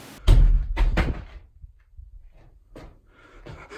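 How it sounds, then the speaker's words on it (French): A cellar door slams shut in a house, giving two heavy, sharp bangs close together near the mic. Fainter knocks and rattles follow, with no one speaking. "c'est là que la porte s'est refermée sur moi"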